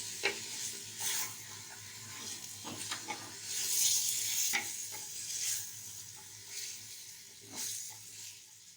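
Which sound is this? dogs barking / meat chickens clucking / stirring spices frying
stirring spices frying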